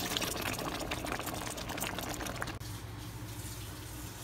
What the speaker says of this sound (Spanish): vamos a agregar nuestra salsa de tomate con chipotle.